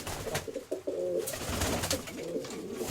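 Pigeons coo close by in repeated low, throaty burbling calls, with several overlapping coos across a few seconds against faint background noise.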